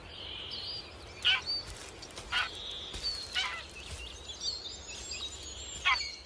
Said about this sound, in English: The young greylag geese have just hatched.